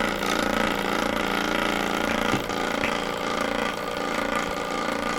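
A generator engine running steadily at about 3400 RPM, a loud, constant buzzing drone with a few faint clicks, close by and without talking.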